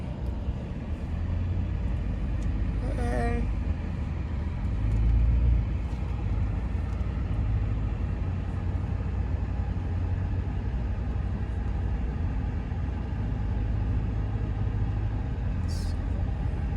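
Steady low rumble of a car driving along a road through Arches National Park, heard from inside, continuous and fairly loud with a brief louder swell partway through.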